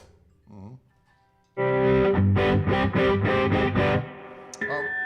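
A short muffled voice, then a loud burst of distorted electric guitar chords strummed in a quick rhythmic run, ending with a brief voice.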